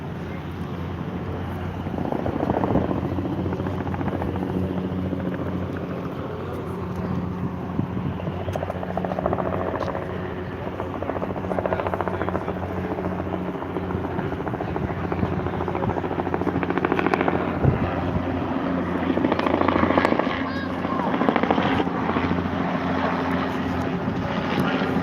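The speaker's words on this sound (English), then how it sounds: "Helicopters all over the place." Helicopters fly overhead above flooded streets in Midland. Their rotors make a continuous throbbing drone that swells and eases over the whole stretch, mixed with wind buffeting the microphone.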